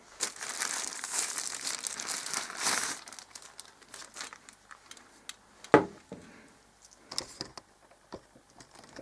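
A plastic bag crinkles and rustles close by in irregular bursts, loudest at first, with scattered sharp ticks and crackles after, as the wrapping comes off a Xiaomi Kiss Kiss Fish vacuum thermos.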